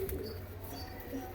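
Soft, low cooing from pigeons offered for sale rises faintly from a quiet background, a gentle murmuring coo in a short burst with no voices.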